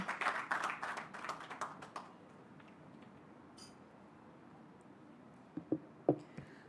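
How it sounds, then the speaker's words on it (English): Brief, scattered applause from a small audience at an office launch for CPF Group Rwanda, dying out after two seconds, followed by quiet room tone and a few clinks and taps. "Let us give her a warm round of applause."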